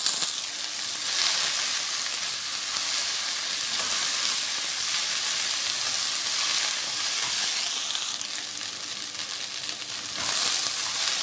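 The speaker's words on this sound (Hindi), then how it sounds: "सबसे पहले मैंने सरसों का थोड़ा सा तेल लिया है और इसमें मैं भिंडी को फ्राई कर रही हूँ" Okra fries in a small amount of mustard oil in a pan, giving a loud, continuous broadband sizzle and hiss that holds evenly throughout with faint stirring underneath.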